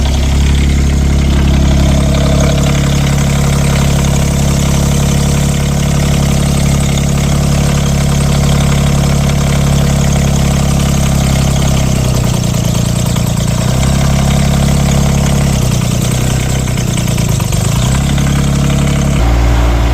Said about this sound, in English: you notice there, the engine was kind of cutting out